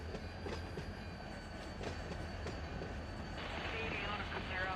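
A freight train locomotive in the railroad simulator Run 8 rumbles along with low, steady droning and faint rhythmic clicks, while someone talks over it throughout.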